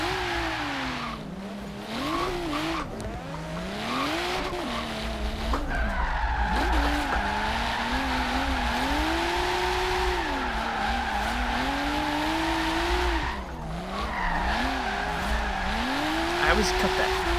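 Car drifting in Forza Horizon 3 on a drift invitational course, a long wavering engine whine rising and falling with sustained tire squeal and skidding, while people talk over it.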